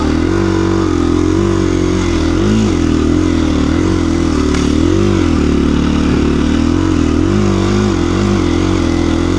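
A KTM 350 EXC-F dirt bike is ridden on gravel, its engine loud and close throughout, droning with rising and falling revs and rumbling under heavy wind buffeting from the ride.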